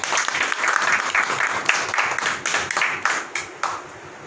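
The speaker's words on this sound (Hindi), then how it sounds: "एक बार तालियां बजा दें" Applause from a crowd, a steady dense patter of many hands clapping that tapers off toward the end, with no talk over it.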